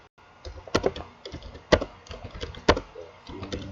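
Typing on a computer keyboard produces irregular clicking keystrokes with a few louder presses, close and dry, with no voices.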